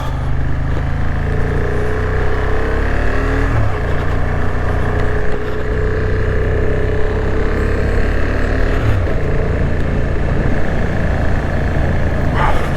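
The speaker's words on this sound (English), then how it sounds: "Sorry about the wind" Wind roars steadily and loudly against the rider on a Honda 750 Hornet motorcycle on a cold, icy morning. It forms a constant rushing wash with the engine droning underneath.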